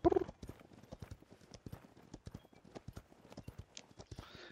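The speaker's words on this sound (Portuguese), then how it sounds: "Olha o barulho do meu cavalo." Rhythmic clip-clop of a horse's hooves galloping in the Paladins video game, close and crisp, repeating steadily with a brief whinny-like burst at the start.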